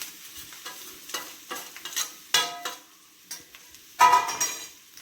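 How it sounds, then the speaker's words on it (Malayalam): Ground spice paste tipped onto cooked, salted tender jackfruit in a pan and stirred for a country-style thoran, giving soft scraping and stirring strokes with light sizzling and a louder clatter midway. "നമ്മൾ അരച്ച് വെച്ചിരിക്കുന്ന അരപ്പാണ് ഇതിലേക്ക് ഇട്ട് കൊടുക്കുന്നത്."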